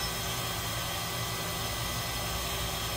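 A 2008 Mazak Integrex E650H II/4000U CNC machine spindle runs at 4500 RPM, giving a steady, even mechanical hum with broadband whir and a faint high-pitched whine holding constant throughout.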